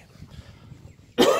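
A single sharp cough bursts out loudly at the end after quiet low murmuring breath.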